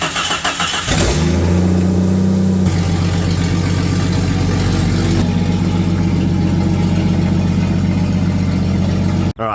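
Stock 4-liter engine in a 1993 Jeep XJ Cherokee cranks briefly, catches and fires up, then settles into a loud steady idle with rising revs and a pitch shift midway, close by, before cutting off abruptly at the end.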